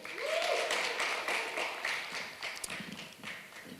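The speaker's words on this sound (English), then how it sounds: "Another big round of applause" A business forum audience gives a round of applause, the clapping quiet and slightly uneven, with scattered sharp claps tapering off toward the end.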